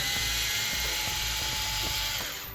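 A small screw on an Arrma Typhon 3S RC car's steering is driven out with a powered driver, a continuous high-pitched electric whine with a rapid ratcheting buzz running steadily for a couple of seconds.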